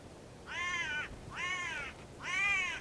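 Three harsh, drawn-out calls from a hooded crow, each about half a second long, evenly spaced and fairly close, with quiet in between.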